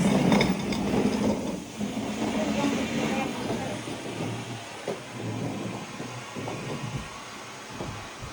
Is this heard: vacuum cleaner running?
yes